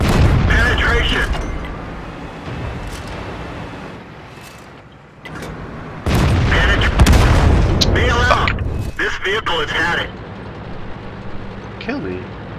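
Tank guns firing in World of Tanks produce several heavy booms with sharp onsets, mixed with engine and mechanical rumble, loud and close, while someone talks over parts of it.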